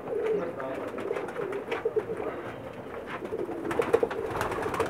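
Pakistani pigeons cooing on a rooftop in Jeddah, Saudi Arabia, soft repeated coos from a few birds, faint and close, mixed with quiet talk and handling noise.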